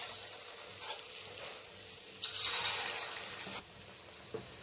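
Egg 65 pieces deep frying in bubbling oil, a continuous hissing sizzle that surges louder for about a second before settling back, with a small knock near the end.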